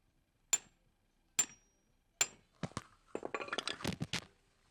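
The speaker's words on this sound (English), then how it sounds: "I'm taking a ball peen hammer, and then I'm hitting the sledgehammer with the ball peen hammer" Ball peen hammer striking a sledgehammer while working on a 1961 Buick driveshaft bearing: three sharp, spaced metallic clanks ring out alone, followed by a quicker, denser flurry of knocks and clatter.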